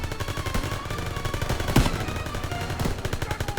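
Sustained gunfire from the World War II shooter Call of Duty WWII, played on the hardest Veteran difficulty, with rapid automatic bursts and a sharper loud shot near the middle, continuous and close, with no talking.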